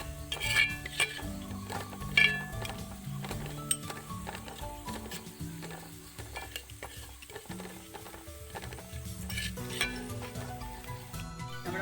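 A spoon works through thick masala in a pan after garam masala goes in, for kappa cutlets: steady scraping and clinking of utensil on metal, with low sizzling underneath, close and moderately loud throughout, no talking.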